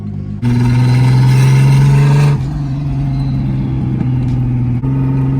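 A turbocharged VR6 Volkswagen Passat engine drones steadily while driving, rising in pitch under acceleration, then easing back to a steady mid-range hum with a slight shift near the end, loud and close from inside the car.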